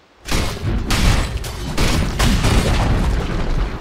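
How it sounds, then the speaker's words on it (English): Tower destruction in a Dota 2 match: a loud, sustained rumbling crash of booming blasts and debris, rolling continuously for several seconds after a brief quiet start, with repeated impacts layered in the roar. "Dire's bottom tower has fallen."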